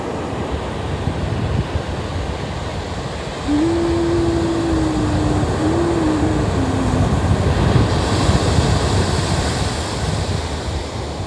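Ocean waves roll onto a beach in a steady, loud roar of surf with wind blowing throughout, and no voices.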